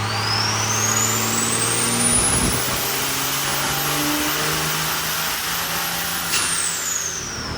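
A diesel engine with a VP44 injection pump and turbocharger under test, a loud sustained roar with a high turbo whine that rises, holds steady, then falls near the end, close and constant without talk.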